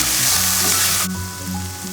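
Food sautés in a pan with cumin, salt, black pepper and oregano for a chicken bread filling, giving a loud, close, steady sizzle with stirring throughout.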